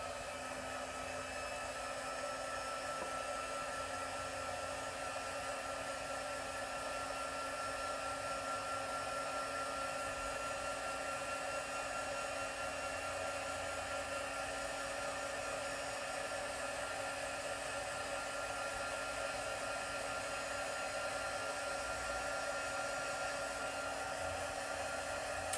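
A heat embossing tool blows hot air over a stamped card, a steady whirring blow with a faint tonal hum, held continuously and muffled at some distance, with no talk.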